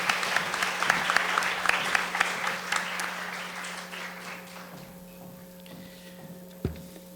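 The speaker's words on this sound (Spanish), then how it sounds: "le damos un aplauso" Audience applause at a journalism conference held at a university in San Pedro, a dense burst of clapping that gradually thins and fades out over several seconds.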